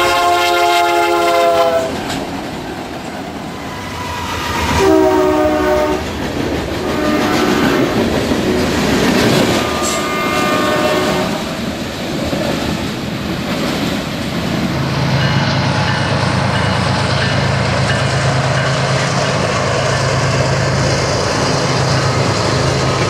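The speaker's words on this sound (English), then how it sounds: "Moments later, another eastbound comes through town. This is ML 486." Eastbound freight train ML 486 rolls through town on a Conrail main line, sounding several long, loud horn blasts over a steady rumble and wheel noise as it passes close by.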